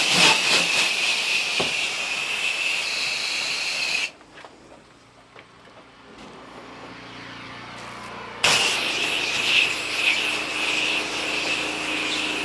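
A pressure washer sprays water across a house roof and exterior, a loud hissing jet that runs continuously, cuts out for about four seconds leaving quiet background, then blasts back on at full strength.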